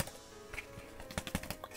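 Quiet typing on the TECLAST X4 tablet's attachable keyboard, a cluster of soft, irregular key clicks with a few sharper taps, close to the listener and on its own without speech.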